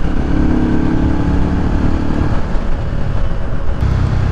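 Benda Napoleon 500 motorcycle with a 475 cc V-twin engine running steadily, a loud, continuous low engine rumble throughout with a slight rise in pitch partway through.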